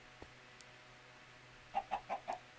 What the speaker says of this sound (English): How did the chicken get in here?